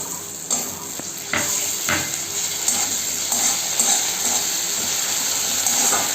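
Chopped onion frying in hot oil for a fish-head moong dal, with a constant close sizzle and a few sharp clinks and scrapes as it is stirred in the pan, no voices.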